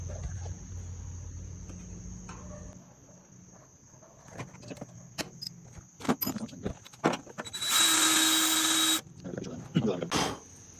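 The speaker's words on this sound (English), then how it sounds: "Alright, it's drilled out." A drill bores a hole for a rivet nut in an 8th-gen Honda Civic during an intercooler install, one loud burst of about a second and a half among scattered clanks and handling noises in a quiet garage.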